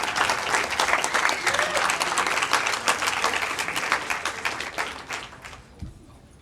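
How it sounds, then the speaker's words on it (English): An audience claps for the audiovisual crew at a biohacking talk, a lively burst of many hands that holds steady and then thins out and fades near the end. "let's have a round of applause for the audiovisual guys for doing their work"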